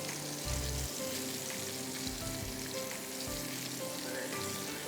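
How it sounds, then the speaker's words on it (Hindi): Prawns fry in a hot pan with a steady, dense sizzle and crackle throughout, occasional stirring scrapes and clinks breaking through, close and continuous with no talk. "मैं प्रॉन्स को तल के साइड में निकाल दूंगी बोल में"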